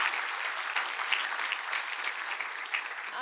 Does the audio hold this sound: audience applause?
yes